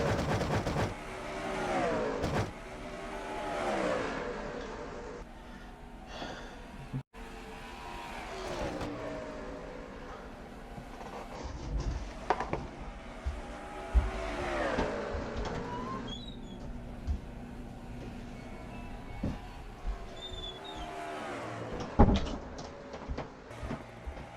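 Stock cars racing around an oval track in a racing video game, engines roaring and revving in repeated waves as cars pass by, loud and fluctuating throughout, with brief clanks.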